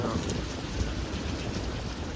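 Steady rain falling outdoors in an urban plaza in Suzhou, China, a continuous close hiss of drops on hard surfaces with a faint low rumble underneath.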